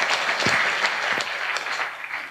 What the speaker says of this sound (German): Bitte gib ihm einen warmen Applaus.